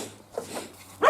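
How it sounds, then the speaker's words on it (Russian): A dog at a village enclosure barks, with one loud, close bark at the very end after a second of faint, scattered yelps. "лает и лает, блядь."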